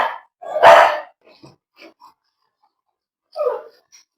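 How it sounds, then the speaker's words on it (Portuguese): A dog gives a couple of short, loud barks close by, with a quieter yip a few seconds later and brief soft sounds in between. "o cachorro tá fazendo uma bagunça aqui"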